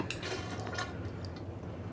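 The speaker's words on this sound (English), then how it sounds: "I get running water coming out of the faucet." Water runs from a pedal-operated faucet into a studio sink with no plumbing in a pottery studio, a soft continuous filling sound with faint drips and light clinks, nearby and quiet.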